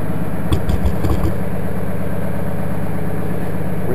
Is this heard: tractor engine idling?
yes